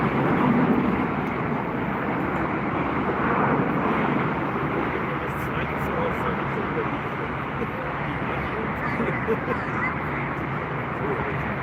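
A British Airways airliner at Frankfurt airport roars steadily as a broad, continuous jet rumble and hiss, with an outdoor wash of noise and faint voices mixed in.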